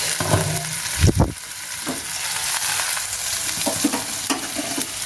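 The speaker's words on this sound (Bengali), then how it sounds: "পেঁয়াজটা ভাজা ভাজা হয়ে গেছে" Onion frying in a pan for a dried lote fish curry with potato and bean seeds, sizzling steadily with a ladle stirring and scraping, including a louder clatter near the start, close and without talk.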